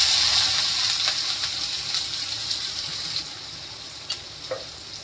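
Chopped onion dropped into hot oil with asafoetida for masala chole, giving a bright, loud hiss that slowly settles into a steady frying sizzle, with a few faint utensil taps toward the end.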